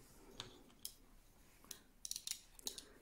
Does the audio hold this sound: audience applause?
no